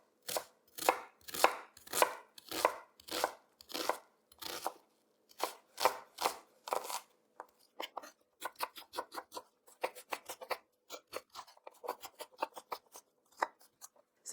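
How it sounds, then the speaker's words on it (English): A knife chops an onion finely on a board in quick rhythmic strokes, a steady fast series of crisp close taps that grows lighter and faster partway through, with no talk over it. "So I'm gonna finely chop this onion."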